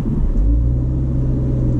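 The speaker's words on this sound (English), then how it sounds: "How well can I actually hill start?" Ford Focus ST pulling away on a hill start, a close, loud low engine rumble that steadies into a firm drone as the car moves off, with no voices.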